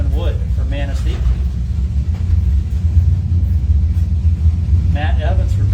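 Drag racing cars at a Chevy-versus-Ford pairing, a Mach 1 among them, rumble loudly and steadily throughout while an announcer talks over the engines.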